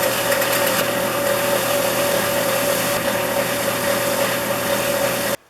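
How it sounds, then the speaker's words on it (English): A bench-mounted wire wheel spins steadily while cleaning three small metal plane parts, giving a continuous loud whirring hum with a constant tone, then cutting off abruptly near the end. "it's on to my wire wheel for the last 3 small parts"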